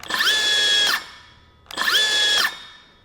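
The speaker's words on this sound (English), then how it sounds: "I'm gonna go ahead and activate the saw, and what I want you to notice is the brake" A Milwaukee M12 Fuel cordless circular saw spins up twice with no workpiece, each burst a high whine lasting under a second before the blade brake cuts it to a quick falling stop, close and loud.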